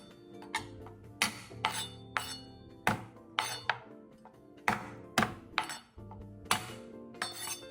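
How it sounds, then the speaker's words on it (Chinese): Peeled small red shallots being smashed with the back of a kitchen knife on a cutting board: a series of sharp, close whacks and knocks in an uneven rhythm, each with a brief ringing clatter, no talking. "小红葱50克，去皮后用刀背拍一拍。"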